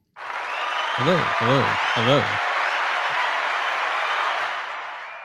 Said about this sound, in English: give a round of applause to the man